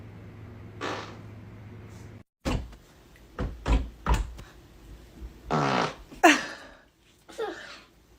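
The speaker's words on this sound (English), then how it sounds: "I got a fart right now." Several loud, short farts in quick succession, some sputtering and some abrupt, close to the listener with brief pauses between them and no talk.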